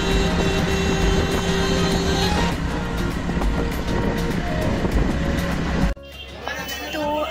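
An auto-rickshaw ride in West Bengal, heading toward Hulorghat, carries a loud, close engine drone with rushing wind and rattle. Voices are heard, and the noise drops abruptly near the end.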